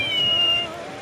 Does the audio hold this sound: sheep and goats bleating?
no